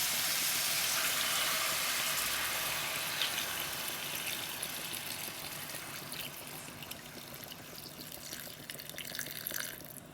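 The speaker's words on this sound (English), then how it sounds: "Now we're going to add some water." Two cups of water pour into a cooking pan, a steady close splashing stream that gradually softens and thins into trickles and drips.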